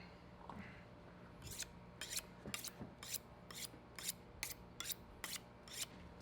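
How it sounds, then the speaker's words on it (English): Fillet knife drawn repeatedly across a sharpener before cleaning fish, about ten crisp, evenly spaced metallic strokes, close and distinct over a low background hum. "Let's sharpen up my knife real quick."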